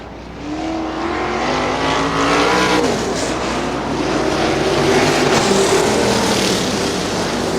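Sprint cars race around a dirt track at a Quincy battleground, a loud continuous roar of several engines that swells and fades as the pack passes, heard from the grandstand.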